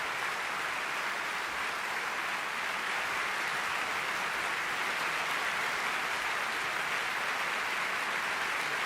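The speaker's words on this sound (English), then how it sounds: "Well-deserved applause." Steady, dense applause from a large classical concert audience for pianist Nobuyuki Tsujii after a Liszt encore, continuous and even throughout with no voices standing out.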